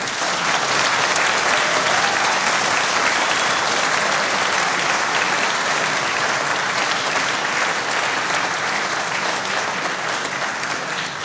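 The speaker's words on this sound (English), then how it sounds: "he deserves a round of applause" A concert audience at an international music competition gives a round of applause for the pupils' accompanist, dense and sustained clapping filling the hall at an even, loud level for over ten seconds.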